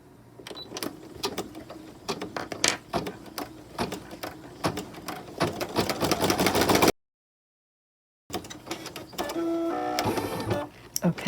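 An embroidery machine stitches vinyl appliqué in the hoop. Rapid, uneven needle clatter runs for several seconds, breaks off into silence, then starts again with a whirring motor.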